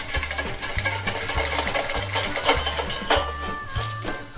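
Whisk beating an egg yolk with a splash of milk in a bowl, a steady rapid rhythmic scraping and clicking that runs throughout, close and fairly loud, with background music and no talk.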